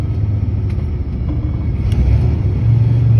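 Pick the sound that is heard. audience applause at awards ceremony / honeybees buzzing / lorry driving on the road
lorry driving on the road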